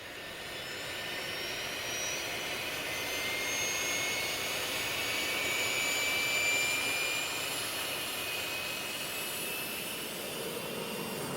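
A jet airliner's engines roar during takeoff, a steady, loud, broad rushing drone with a thin whining tone that climbs and swells over several seconds before easing slightly. No voices are heard.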